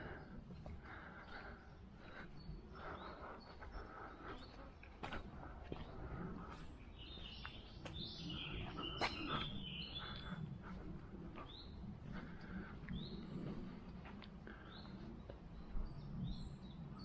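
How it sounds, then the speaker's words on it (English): Birds sing in the trees of Corbet Wood at Grinshill in the Shropshire countryside: scattered high chirps and short song phrases, moderately distant, over a steady outdoor background hiss. "Can hear the birds in the trees"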